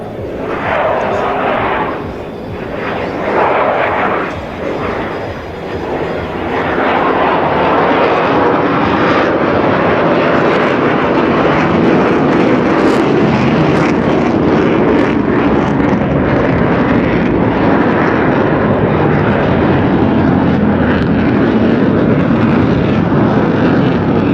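A Eurofighter Typhoon flies a military aerobatic display pass at an air show, a loud rumbling jet roar that builds and holds with crackling power, with a commentator talking over it.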